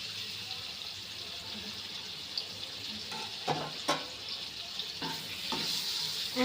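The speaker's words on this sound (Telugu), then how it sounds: "అండ్ ఒకసారి ఆ మసాలాలు అండ్ ఉప్పు కారం అన్నీ పట్టేలాగా ఎగ్స్కి మంచిగా కలుపుకోవాలి" Boiled eggs being stirred with masala, salt and chilli powder in a hot pan for egg biryani, a steady sizzle of frying beneath with a few louder scraping stirs.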